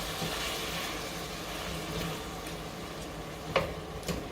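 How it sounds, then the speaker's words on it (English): Beef sizzles quietly as it browns in a hot pan, a soft steady crackle with a couple of faint clinks near the end. "And we'll get this meat browning."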